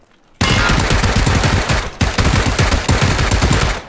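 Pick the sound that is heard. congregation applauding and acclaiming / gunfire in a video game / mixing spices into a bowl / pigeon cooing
gunfire in a video game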